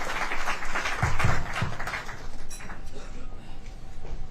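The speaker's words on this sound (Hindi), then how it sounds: "जोरदार तालियों से स्वागत करें" An audience in Shimla claps to welcome the Chief Minister, a moderately loud wash of crowd applause with a few sharper, closer claps midway, trailing off into fainter scattered clapping.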